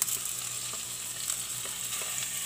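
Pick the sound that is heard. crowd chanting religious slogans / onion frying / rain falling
onion frying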